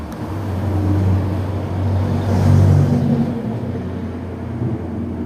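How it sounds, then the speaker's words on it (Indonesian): Cars and large vehicles pass along a provincial road beside a roadside phone repair counter, a steady low rumble of traffic swelling and fading, with one closer vehicle peaking midway. "ini suara motor ya, motor mobil ini ya mengganggu gitu kan."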